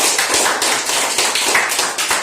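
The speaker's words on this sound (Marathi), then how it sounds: "सगळ्यांनी त्याच्यासाठी जोरात टाळ्या वाजवायच्या" Schoolchildren clapping for a winning group in a classroom activity, a dense, loud burst of steady applause filling the whole short moment.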